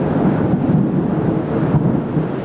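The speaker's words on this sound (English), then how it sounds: "I hear the thunder in the background" Distant thunder rolls as a low, continuous rumble, steady and muffled, with no voices over it.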